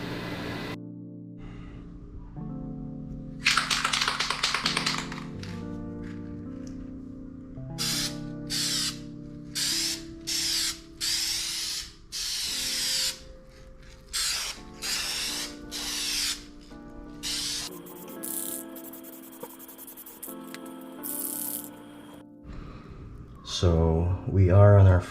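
A first coat of paint is sprayed onto a bare plastic 2K spec grille in repeated short bursts of hissing aerosol spray, separated by pauses, over steady background music.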